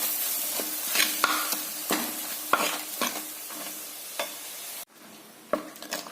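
Ground coconut paste and water stirred into a pumpkin curry in a pan, a spoon scraping and clacking against the pot in repeated strokes over a soft steady sizzle, close and without voices.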